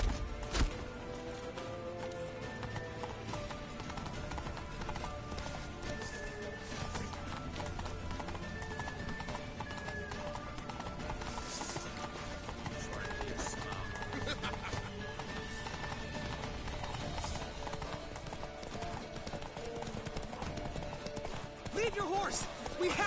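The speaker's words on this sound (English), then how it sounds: "Oh, get on the horse!" In The Witcher 3, a horse gallops with steady hoofbeats and occasional whinnies under continuous game music, with voices talking over it.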